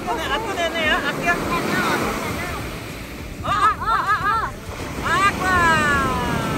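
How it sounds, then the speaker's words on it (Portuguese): Ocean waves wash onto a beach at night under strong wind noise, with excited voices and high yips or calls breaking over the surf. "As ondas ali."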